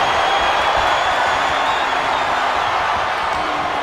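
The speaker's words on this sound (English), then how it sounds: "What a raucous crowd here tonight." Arena crowd noise in the WWE 2K25 wrestling video game, a steady, dense roar of cheering spectators that holds at an even level under faint commentary throughout.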